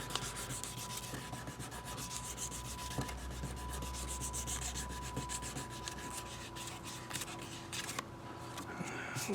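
Fine-grit sandpaper rubbing over a carved wax ring, a steady close scratchy friction that runs without pause for the whole stretch, with a faint constant tone in the background.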